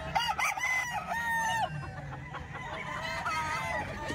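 A young rooster, a stag, crows several times nearby on a farm, its cracking cock-a-doodle calls mixed with a few clucks from other fowl.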